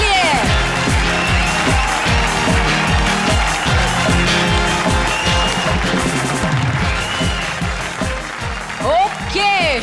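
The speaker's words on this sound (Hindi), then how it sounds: "जोरदार तालियां हमारी सारी सुपरहिट जोड़ियों के लिए।" A television comedy show's studio audience claps steadily, with cheers and a voice over music during the ovation, all loud and close throughout.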